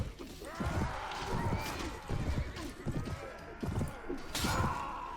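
A horse in a medieval battle game, from the Warband mod A Clash of Kings, whinnies several times over steady hoof clip-clop, with battle noise and someone talking over it.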